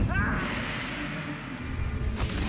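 An Incendio fire spell is cast during combat in the Hogwarts Legacy video game, a dense, loud roaring blast that fills the whole moment with steady crackling noise and brief sharp bursts near the end.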